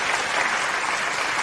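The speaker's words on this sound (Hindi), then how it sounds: "एक बार जोरदार तालियां बजा के" Dense, loud clapping from an audience at a shayari poetry recital, a continuous wash of applause for the full second and a half.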